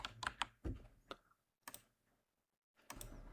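A computer keyboard is typed on in short bursts of crisp, close keystrokes, with brief silent pauses between the bursts.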